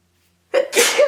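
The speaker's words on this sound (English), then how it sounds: "Oh my God, I'm going to sneeze." One loud, close sneeze erupts abruptly after a moment of silence, a quick inhale followed by an explosive burst.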